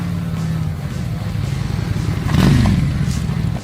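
A Japanese cruiser motorcycle with a 583 cc liquid-cooled V-twin idling and revving with a low, choppy exhaust rumble, close by and loud, swelling slightly midway.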